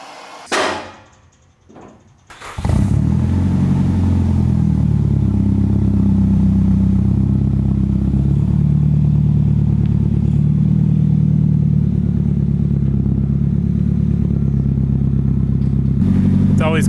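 A Nissan Pulsar GTI-R turbo car starts with a few clunks and knocks, then a loud, steady engine drone holds close by as it pulls away and drives on, with speech faintly present.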